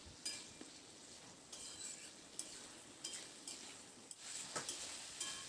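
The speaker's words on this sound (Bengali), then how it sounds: "এবার পেঁপে আর আলুটা দিয়ে খুব ভালো করে নাড়াচাড়া করে" Papaya and potato stirred with spices in a pan, a faint soft sizzle under scattered scraping and tapping of a spoon against the pan at an uneven pace.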